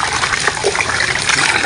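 Deep floodwater gushes and churns at a rain-soaked work site, a loud, close, continuous rushing wash of water.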